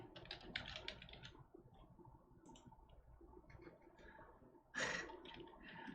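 Computer keyboard keys clack in quick bursts of typing during a gaming stream, close and fairly soft over low background noise, with one sharper, louder clatter near the end.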